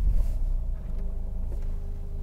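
A 2014 Jaguar XF 2.2 TD R Sport diesel engine settles after starting: a low, steady rumble close by, with a brief louder surge at the beginning, no voices.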